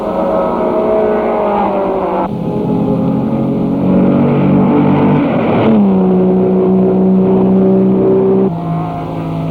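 Race cars at the 1965 Sebring 12-Hour Grand Prix roar loudly and continuously, engine notes rising and shifting as the cars accelerate and pass, with no talk.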